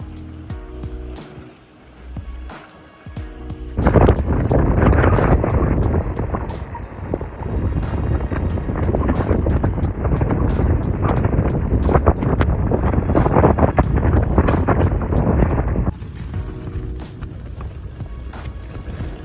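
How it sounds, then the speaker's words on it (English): Strong wind roars and buffets against the microphone, rising into a loud, continuous rush after a quieter start, then easing slightly near the end. "I'm just recording the never-ending sound of wind."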